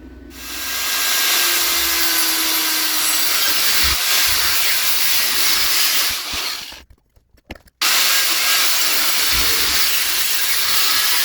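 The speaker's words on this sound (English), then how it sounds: "so I will weld this piece" Welding of a steel piece for a homemade wood fired stove, with a loud continuous crackling hiss that runs steadily for several seconds, breaks off briefly into sputtering, then resumes at full strength.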